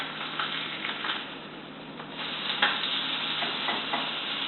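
A flounder fillet sizzles steadily in a hot pan after being flipped, a continuous crackling hiss with occasional small pops and knocks, close and fairly even throughout.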